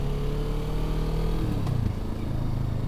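Engine of a 2024 Kawasaki Vulcan S 650 motorcycle while riding on the road, a steady loud drone with a pitch that dips as gears are shifted, heard up close over continuous wind rumble and no voices.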